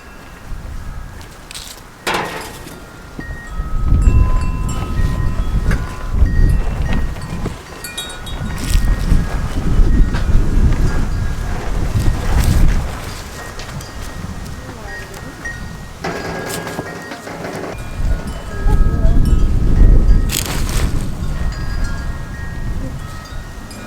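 Strong gusts of wind buffet the microphone outdoors while potatoes are being planted. The roar swells and fades in loud surges, and some indistinct voices can be heard in between.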